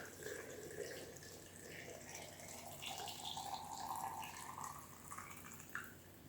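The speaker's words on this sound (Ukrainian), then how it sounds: "Розсіл закипів і гарячим розсолом заливаємо огірки до самого верху." Hot brine poured over cucumbers in a jar, a faint continuous trickling and splashing pour with some gurgling that is heard under low background noise.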